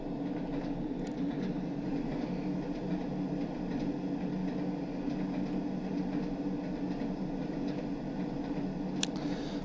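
A Class 101 DMU train running on the Tees Valley Line in Train Sim World 3, a steady low engine rumble with rolling wheel noise and occasional faint clicks and rattles, continuous and without talk.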